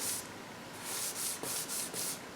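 Hand sanding of paint runs on a freshly painted car bumper from an IROC-Z, with repeated soft, hissing abrasive strokes in a steady back-and-forth rhythm, close and fairly quiet, no talking.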